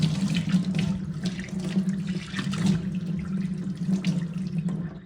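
Tap water running steadily into a kitchen sink while washing up after cooking, a continuous close splashing gush that stops at the end.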